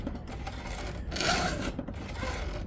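A hand file rasps across chainsaw chain teeth in short, close strokes, a gritty scraping rhythm with one longer, louder swipe in the middle.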